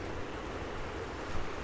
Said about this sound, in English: There's a couple creek crossings here.